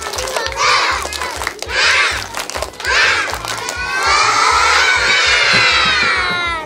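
Kindergarten children at an Islamic school event in Pekalongan clap and shout a short rhythmic chant together, their loud group voices rising in bursts over sharp, evenly spaced claps.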